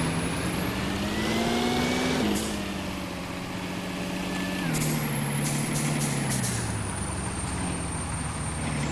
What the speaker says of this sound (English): It's a nice truck.